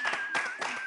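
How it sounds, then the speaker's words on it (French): Short burst of audience clapping in a French TV studio as a guest is welcomed onstage, loud, close and steady across the moment, with a thin sustained tone running underneath. "Est-ce qu'on peut applaudir et la recevoir ici?"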